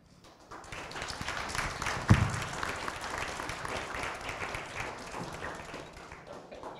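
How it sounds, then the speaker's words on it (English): An audience applauds after a talk in a museum lecture setting, with steady, dense clapping from a crowd that swells, holds for several seconds with one sharp louder clap, then slowly thins out. "So another round of applause"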